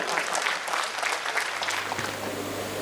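An audience at a Sir Syed Day mushaira poetry gathering gives sustained, dense applause, an even roar of many clapping hands throughout.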